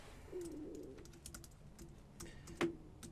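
Quiet keystrokes tap on a computer keyboard in a short irregular run of light clicks, faint and close, with a soft cooing bird in the background.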